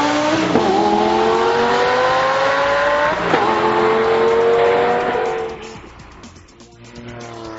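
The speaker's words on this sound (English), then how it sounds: "put the car in gear, switch off the stability control, engage the sport mode, release any pressure on either pedal, and then stomp on the gas" A Lamborghini Gallardo Superleggera launches hard, its tires squealing. The engine note climbs loudly through a couple of surges, then drops away and fades as the car pulls off.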